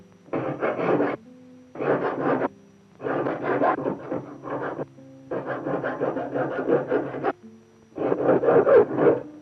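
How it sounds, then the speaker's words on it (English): A knife master files the head of a knife handle, likely wood, with a rasp: five distinct bursts of rough, scraping strokes, each lasting about a second, separated by short pauses, close and clear. "The knife master then finishes the head of the handle by filing it."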